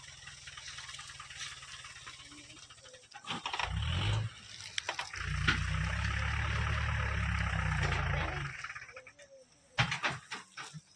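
A tractor engine rumbles nearby in a rural setting, a low, heavy throb that surges in two loud stretches with quieter gaps between, over faint outdoor background noise.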